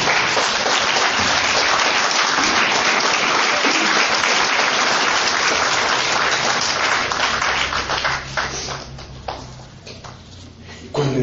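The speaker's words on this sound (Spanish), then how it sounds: "Dale un aplauso." A church congregation claps loudly and densely for several seconds. The applause thins out and fades toward the end, and a few scattered claps and a faint voice follow.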